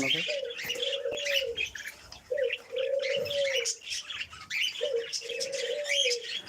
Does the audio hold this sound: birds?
yes